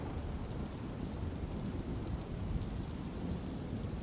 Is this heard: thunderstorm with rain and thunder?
yes